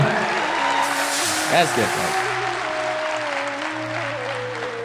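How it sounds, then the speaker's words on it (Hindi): An audience claps at a motivational talk, giving steady, dense applause that holds throughout, with a brief rise in the middle. "थोड़ा रियल ताली बजा"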